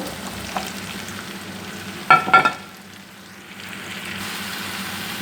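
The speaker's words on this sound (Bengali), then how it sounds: "বেগুনটি আমি ভালো করে আলুর সাথে সব মশলার সাথে মিশিয়ে নিচ্ছি দেখেন" Diced eggplant is stirred into frying potatoes and spices in a pan, with a steady sizzle that bursts into a brief clatter of stirring before settling back to a quieter fry.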